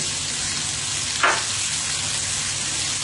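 Chopped cabbage, carrots and capsicum fry in a pan for Chinese fried rice, with a steady, close sizzle and one brief louder stir or toss partway through.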